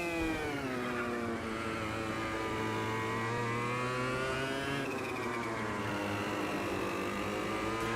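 Kart engine in the racing game Automobilista 2, a loud, steady high-pitched whine held at high revs throughout, with a brief dip and pitch shift partway as the driver lifts and reapplies throttle.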